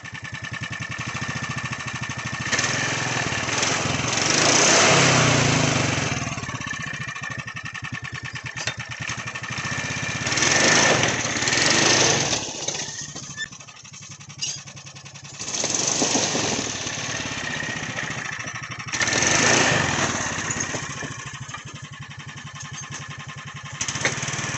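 Polaris Sportsman 420 ATV engine running close by, a steady buzzing motor hum that swells several times as the throttle is blipped, then settles back to idle.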